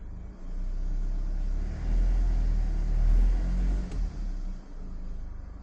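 A car rolls slowly over a garage floor coated with Behr Premium Granite Grip paint, its low engine rumble swelling and easing, with a brief soft knock partway through.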